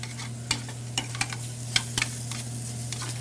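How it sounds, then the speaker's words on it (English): Seafood stir-frying in a hot pan for an Asian-style dish, with a steady low hum under scattered sharp clicks and scrapes of a utensil being stirred through it. "Give it just a little bit of a stir there. Wow, that does cook fast."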